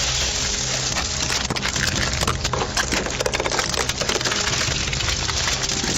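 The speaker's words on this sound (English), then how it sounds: "Okay, break the window and take her out." Police officers smash a car's window glass during a roadside arrest, a dense, continuous crunching and splintering of breaking glass that stays loud and close from start to finish.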